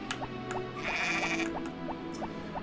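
Sheep in the video game Harvest Moon bleat over a busy game soundtrack, a sustained bleat standing out mid-clip amid repeated light tinkling plinks.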